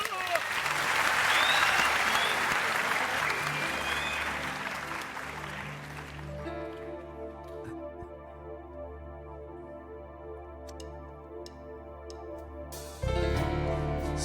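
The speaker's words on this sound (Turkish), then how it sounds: "Alkışlar Fethi Açan'ı yazsın" Studio audience on a Turkish talk show gives loud applause that gradually fades out over several seconds, and then a music intro with sustained tones takes over.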